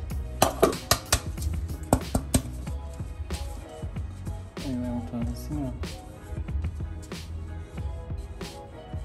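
Flour spooned into a buttered cake pan for a carrot cake, with metallic taps, scrapes and clinks of the spoon and pan throughout, under steady conversation in a home kitchen.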